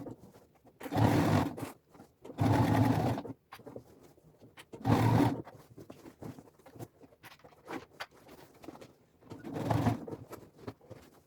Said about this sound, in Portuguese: a gente vai passar uma costura aqui em toda a volta para fixar as duas laterais